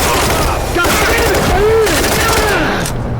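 Grenade blast amid rapid gunfire during a Payday 3 heist shootout, with dense overlapping shots and a steady roar of combat throughout, continuous and loud with whistling tones layered over it.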